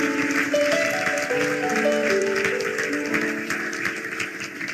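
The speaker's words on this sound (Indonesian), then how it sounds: "Tepuk tangan buat Yesus." A church congregation applauds for Jesus during a testimony: a dense, continuous patter of many hands clapping, mixed under worship music with a melody line, fading slightly toward the end.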